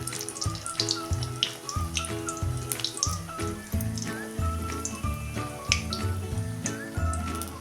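Bhaji fritters frying in hot oil, a steady close crackle and sputter of bubbling oil with scattered sharp pops throughout, no talk.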